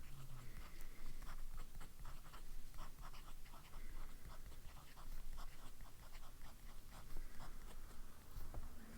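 A TWSBI fountain pen with a fine nib writing on paper, giving a soft, continuous scratchy rustle of short strokes that repeat steadily throughout, faint and close with no talking.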